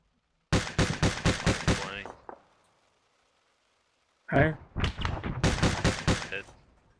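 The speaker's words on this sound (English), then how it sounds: "I'm just barely firing it across the trench now." Two loud bursts of rapid Mk19 grenade launcher fire in Arma 3, each roughly six or seven evenly spaced thumping shots, separated by about two seconds of near silence.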